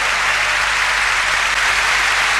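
A large concert audience applauds at Luna Park, a dense steady wash of clapping that stays loud and even throughout with no voices standing out.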